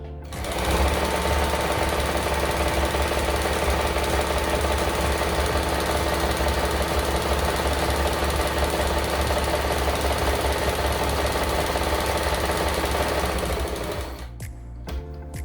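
A Janome 392 sewing machine runs steadily as it stitches a letter design, a loud rapid mechanical whirr and clatter that holds constant before stopping near the end.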